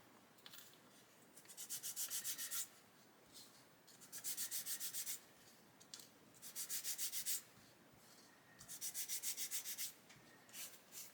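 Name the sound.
sanding plastic model kit part with 600 grit sanding stick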